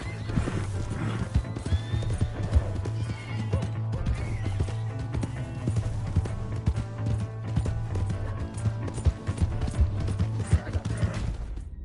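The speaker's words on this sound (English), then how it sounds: "Hey, that's my horse!" Horses in Red Dead Redemption 2 whinny and clip-clop on hooves amid a dense, steady game soundscape with a low droning hum, clicking mechanical rattles, and faint voices in the mix.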